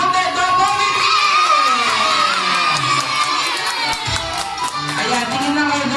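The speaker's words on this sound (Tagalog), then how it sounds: "Palakpakan natin yung ating special guest" Children at a seventh birthday party shout and cheer loudly for a special guest, a close, excited crowd of young voices whooping over faint clapping.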